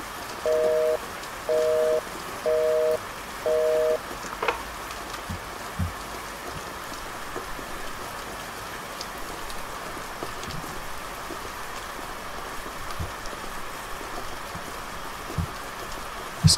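Rain falls steadily at night in a video game, a continuous hiss of drops on surfaces with a few scattered taps. A short repeated electronic ringing opens it, and no one talks.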